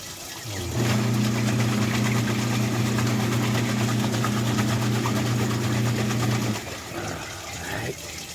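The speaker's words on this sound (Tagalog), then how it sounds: "washing machine." A washing machine runs steadily with a low, even motor hum that starts abruptly and cuts off after several seconds, close by in a rural home.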